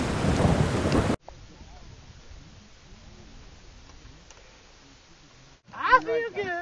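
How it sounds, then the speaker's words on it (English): A short burst of heavy rain hiss on Mount Kilimanjaro, Tanzania, then quieter steady patter with faint background sounds, ending with a voice. "and it's still raining."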